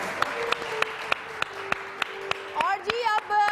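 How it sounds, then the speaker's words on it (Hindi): A studio audience on a Pakistani entertainment talk show claps in a steady, evenly spaced rhythm of sharp beats. A voice rises over the clapping near the end. "और एक दफा फिर जोरदार तालियां रऊफ भाई"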